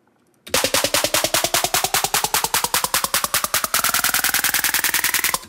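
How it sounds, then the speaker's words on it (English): A pitched-up snare roll for a melodic dubstep build: rapid, evenly spaced hits that speed up and climb in pitch over about five seconds, loud and dense, with no voice over it. "Snare roll and pitch it up."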